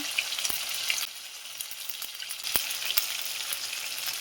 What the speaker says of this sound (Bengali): জিরে বাটা, আদা আর জিরে বাটাটা দিয়ে এবার মশলাটা কষিয়ে নেবো ভালো করে।